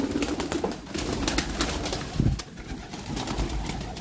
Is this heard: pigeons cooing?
yes